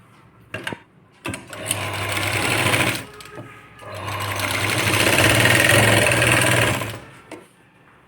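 A sewing machine runs in two long bursts, stitching a quarter-inch seam to attach a waistband strip on a sleeveless princess-cut blouse, with a steady close mechanical whir and short pauses between runs.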